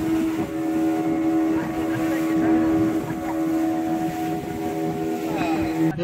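A boat motoring across the sea off Malvan in Maharashtra toward a scuba diving spot, its engine a steady droning hum mixed with wind and water rush, continuous and close throughout.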